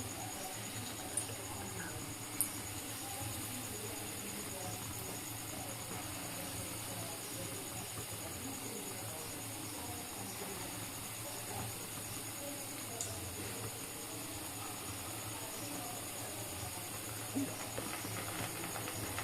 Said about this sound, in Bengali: এইভাবে আস্তে আস্তে পকোড়াগুলিকে ছেড়ে দিতে হবে।